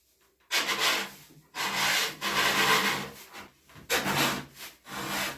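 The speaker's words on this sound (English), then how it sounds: "Get my hacksaw for easy removal." A hacksaw rasps through material during taxidermy mounting of a black-phase howling coyote, loud close back-and-forth strokes in four bursts separated by brief pauses.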